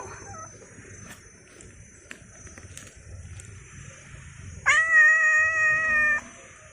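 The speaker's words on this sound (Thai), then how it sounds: "แมวครับ แมว แมวครับ หันมาสวัสดีหน่อย" A pet cat gives one drawn-out, loud, clear meow near the end, after a quiet stretch of faint background noise.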